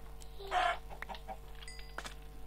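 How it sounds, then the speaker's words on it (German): Minecraft chickens clucking in a game, a few short clucks in a quick cluster, then scattered softer blips over a quiet background with no talk. "Das sind Hühner."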